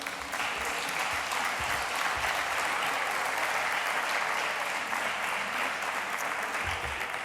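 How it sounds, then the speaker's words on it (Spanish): Sustained, dense audience applause at a political event in Sevilla, Andalucía, steady and even across the whole stretch with no pauses. "la más entusiasta en ese aplauso ha sido la consejera de Fomento"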